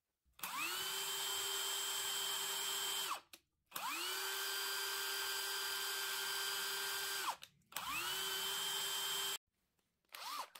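An Einhell Impaxxo 18/230 cordless impact wrench runs free in three long high-pitched whirring bursts, each ramping up and winding down, with short gaps between them. It is close and clear, with no talk.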